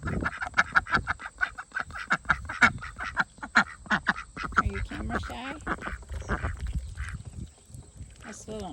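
Ducks quack repeatedly in a garden in August, a rapid run of nasal calls close by, with a person talking to them over and between the quacks.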